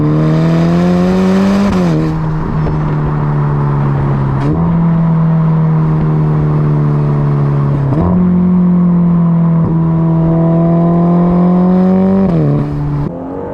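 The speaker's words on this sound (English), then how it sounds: "Those pops on the upshifts are super satisfying." A Ferrari Roma engine revs hard through several gears, with sharp pops and crackles at each upshift; loud and close, no talking.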